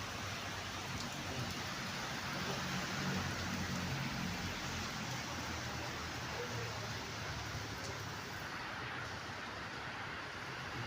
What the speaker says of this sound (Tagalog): tingnan nyo po, ang lakas ng ulan, no? Ang hangin, no?